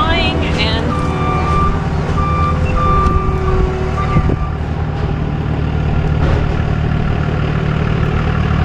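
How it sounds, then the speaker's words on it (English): A loud truck reverses at a firewood work site, its backup alarm sounding repeated steady beeps over a constant engine rumble. "They got this loud truck messing up"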